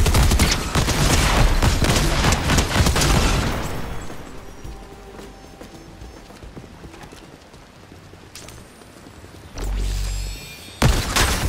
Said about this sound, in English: They tossed a turret out, I heard it.